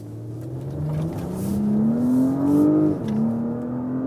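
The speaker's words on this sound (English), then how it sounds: "All right, Sport Plus. Let's accelerate it out." A 2024 Porsche Cayenne in Sport Plus mode accelerates hard from a corner, its engine note climbing steadily in pitch, easing briefly at a gear change, then pulling again, loud and close from inside the cabin.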